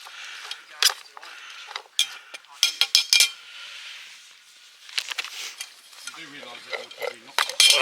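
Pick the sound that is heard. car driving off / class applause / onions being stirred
onions being stirred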